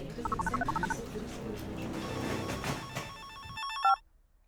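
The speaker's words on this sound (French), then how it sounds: "Rappeler l'IA. Et déclencher la sonnerie." A telephone rings in repeated electronic trills over a busy, noisy background, then a final loud ring before sudden near silence.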